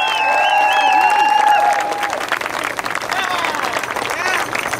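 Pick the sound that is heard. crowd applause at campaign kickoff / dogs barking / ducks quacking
crowd applause at campaign kickoff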